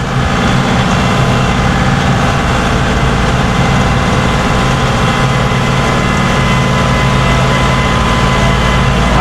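A loud, steady engine rumble runs throughout, heavy and low like a tractor working continuously as it plows ice in a driveway, with no pauses or voices.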